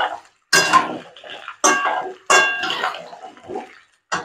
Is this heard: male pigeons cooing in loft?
no